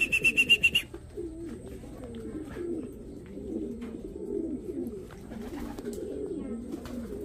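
Racing pigeons coo at a loft after returning from a young-bird race, low soft coos repeating steadily and close by, with a brief chirping burst at the start.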